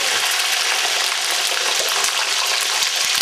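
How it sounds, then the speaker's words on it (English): A dense, loud sizzle of thinly sliced potato chips frying in hot oil in a pan, a continuous crackling hiss without pause. "try not to get burnt from the ice hitting the hot oil, and we move it around a little bit so it doesn't stick to the bottom of the pan"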